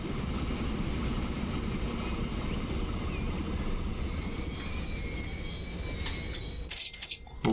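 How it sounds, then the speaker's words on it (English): A train in the Transport Fever railway simulation game pulls into a station, its wheels squealing loudly on the rails over a steady rumbling roll, with a sharper clatter near the end. "in comes our train"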